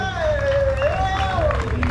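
Spectators at the Rallye de Saint-Yrieix 2025 final stage applaud and cheer, a scattered burst of clapping and crowd noise under a sustained voice.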